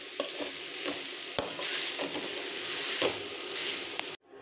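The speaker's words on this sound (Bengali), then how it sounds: "নুন আর মিষ্টিটা ভালোভাবে চেক করে নিয়ে এই পর্যায়ে এরমভাবে ভালোভাবে মিশিয়ে নিতে হবে" A vegetable chop mixture is stirred in a pan: repeated scraping strokes with a soft sizzle underneath, close and moderately loud, ending abruptly near the end, with no voices.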